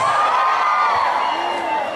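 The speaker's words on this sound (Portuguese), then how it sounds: "Eu quero ouvir mais uma vez o gritinho das mulheres." A carnival show crowd of women lets out a sustained high-pitched screaming cheer, loud and dense throughout the short burst.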